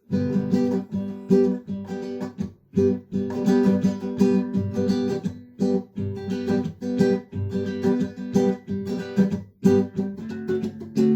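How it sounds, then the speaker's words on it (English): Guitar strummed in G in a lively, syncopated calypso rhythm, steady chords with brief pauses between phrases, played alone and close. "when you're strumming and playing calypso"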